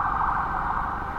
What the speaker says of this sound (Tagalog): Itong isa sa nakita kong ambulansya na sobrang bilis talaga, na nagmamadali talaga.